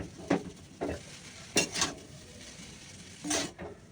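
Chow mein with onions is stirred in a full wok, four or five separate scraping, clattering strokes of a spatula against the metal over a faint sizzle. No speech.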